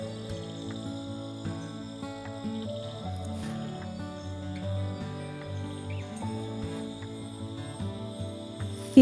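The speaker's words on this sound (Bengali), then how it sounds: "ঝিঁঝি পোকার ডাক শুনছো?" Crickets chirp steadily around a hill lodge in Kalimpong in the monsoon: dense, layered high trilling from many insects, moderately loud and continuous, with no talking.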